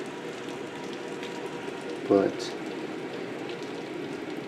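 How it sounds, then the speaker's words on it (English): Heavy rain falls outside during a stormy Ohio afternoon with a tornado warning, a steady, even hiss of downpour at moderate distance, with a short spoken word briefly cutting through. "I just had a tornado warning and it's raining pretty hard out there now."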